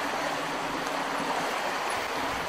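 River water rushing steadily through an open irrigation gate, a continuous broadband wash with no breaks, fairly close and even in loudness, with no talking.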